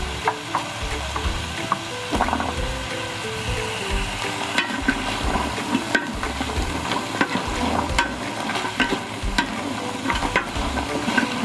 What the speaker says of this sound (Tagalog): Igisa natin ng bahagya mga ka-winners.